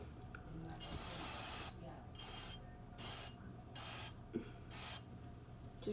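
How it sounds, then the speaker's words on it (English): Several short hissing bursts of canola oil cooking spray onto a pan, pulsing in a rough rhythm, with light rubbing and clatter in between. "you should always spray the pan. This one is canola oil spray."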